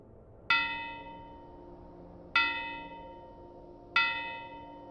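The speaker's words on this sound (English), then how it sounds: "suddenly I heard the graveyard bells ring" Graveyard bells ring out in three separate clear, resonant strikes, each leaving a long, shimmering decay, spaced roughly two seconds apart against a quiet background.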